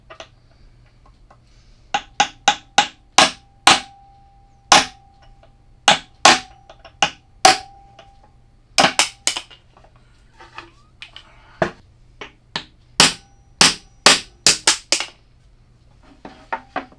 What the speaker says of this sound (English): step 2 is going to be to pound these out with a hammer and nail set.